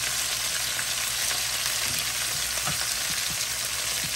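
Fresh green beans cook in a pan on the stove with a steady, close sizzle and crackle that carries on evenly, with no one talking.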